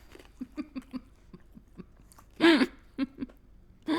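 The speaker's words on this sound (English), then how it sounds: "I'm still chewing it." Close-up chewing of a dry, tuna-like snack, with a steady run of soft rhythmic chews and a few louder crunchy bursts in between; no talking.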